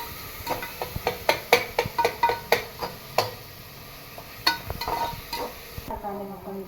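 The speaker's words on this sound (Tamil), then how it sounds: "தக்காளி கொஞ்சம் வதங்கிடுச்சு." Onion and tomato sautéing in a pan for mushroom biryani, a soft steady sizzle punctuated by repeated sharp ticks and scrapes of a spoon stirring against the pan, close and clear.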